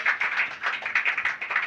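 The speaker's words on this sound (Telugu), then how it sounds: "చప్పట్లు కొట్టాలి మరి." A church congregation claps during a Telugu sermon: quick, rhythmic handclaps from a crowd, steady and fairly close, with no talking over them.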